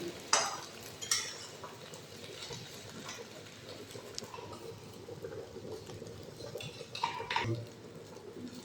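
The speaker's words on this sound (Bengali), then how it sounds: "এখন ডিমটা উল্টাই দিব বন্ধুরা। এক পাশে ভাজা হয়েছে, আর একটা উল্টাই দিব।" An egg omelette is flipped and fried in a pan, with a couple of sharp utensil clanks against the pan followed by a soft, steady sizzle and occasional light scrapes.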